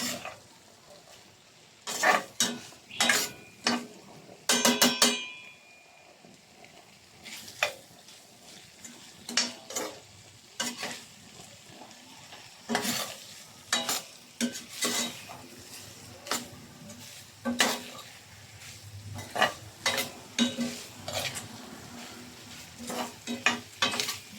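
Onion and garlic sauté in oil for chicken liver adobo in coconut milk, a faint sizzle beneath repeated clinks and scrapes of a utensil against the pan in irregular bursts.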